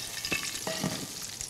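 Fat rendered from beef entrecote sizzles and crackles in frying pans, a close, continuous hiss broken by scraping and stirring clatters as the fat is combined, with no talk over it.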